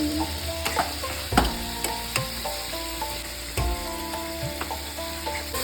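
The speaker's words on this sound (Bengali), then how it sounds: "মশলাটা ভালোভাবে ভাজা হয়ে গেছে, দেখুন তেলটা ছেড়ে দিয়েছে" Spice masala for dal fry sizzles in oil in a frying pan, with a steady hiss broken by sharp knocks and scrapes of a spatula stirring it. Nobody speaks.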